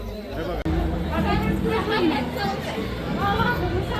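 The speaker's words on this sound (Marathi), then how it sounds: "तुम्ही गर्दी बघाल ना तर बघा भयंकर गर्दी आहे" Dense crowd chatter fills the space outside the Mahalakshmi temple in Kolhapur: a steady, overlapping murmur of many voices close by, with no single voice standing out.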